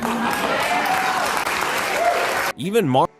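A studio audience at a live TV talk show bursts into sustained, dense applause that fills most of the moment, then cuts off abruptly as a voice takes over.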